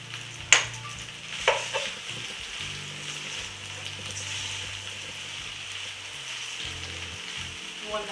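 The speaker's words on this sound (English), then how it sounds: "I'm going to mix in half of the cheese" Half the cheese stirred into hot, freshly boiled macaroni for a Trini macaroni pie, a close, wet sizzling mix with a couple of sharp scrapes near the start, no talking.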